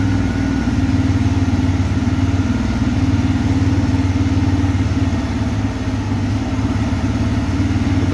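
A TVS Raider motorcycle engine runs at idle, a close, loud and steady rhythmic chug that holds for several seconds with no talking over it.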